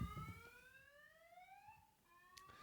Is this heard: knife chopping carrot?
no